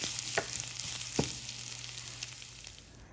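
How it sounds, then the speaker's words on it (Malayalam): Fried shallots tipped into a pot of dal curry for an Onam sadya give off a steady close sizzle, with a couple of brief stirring clatters near the start. "ചെറുള്ളി, ഇതെല്ലാം മൂത്തിട്ടുണ്ട്. ഇത് പരിപ്പ് കറിയിലേക്ക് ചേർക്കാം."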